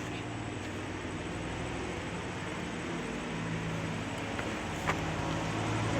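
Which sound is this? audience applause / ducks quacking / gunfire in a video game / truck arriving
truck arriving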